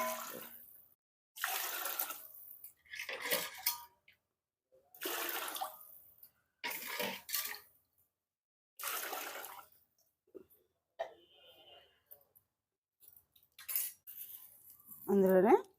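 Water splashes from a small vessel into a pot of rice in several separate pours with pauses between them, each pour a short gush, followed by a faint metallic clink.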